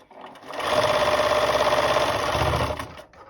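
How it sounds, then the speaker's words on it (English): A sewing machine stitching two pieces of fabric together runs in one steady, fast whirring burst for about two and a half seconds, close and loud, then winds down with no voices. "from the other side, we're going to go ahead and sew these 2 pieces together"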